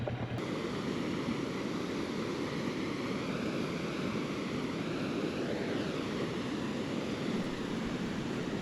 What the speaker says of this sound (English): Right across the street from the caves is this nice rapid area.